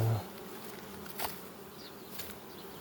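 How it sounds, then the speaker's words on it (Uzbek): Honeybees working at apiary hives make a steady, dense buzzing swarm drone close by, with individual bees passing nearer now and then over the continuous hum. "asalarilarimiz ishlashyapti"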